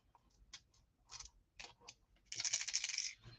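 Dice rattle and clatter across a board during a tabletop Australian rules football game, a few short bursts of tumbling clicks followed by a longer, louder rolling clatter, close and clear with no talk.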